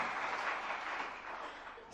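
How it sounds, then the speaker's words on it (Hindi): Steady applause from an audience at a talk on Jain history, dense and continuous for about two seconds at moderate loudness, with no voices over it. "जरा तालियां बजा दीजिएगा।"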